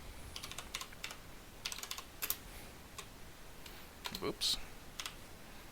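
Someone types a Linux apt-get command on a computer keyboard, quick bursts of light key clicks with short pauses, close and fairly quiet, with a brief spoken remark near the end.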